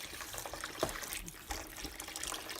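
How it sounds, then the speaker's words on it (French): Hot water is poured over couscous, a soft, steady trickle and splash heard close but faint, with brief stirring or clattering noises mixed in. "une bonne eau chaude. Voilà, je vais arroser."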